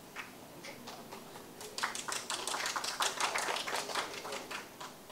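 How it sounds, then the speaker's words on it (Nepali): A crowd claps after a speech at an anti-corruption gathering, faint at first and then a livelier burst of scattered hand claps that holds steady before easing slightly. "कमसेकम मैले नमागिकन यति ताली त बजाइदिनु भयो"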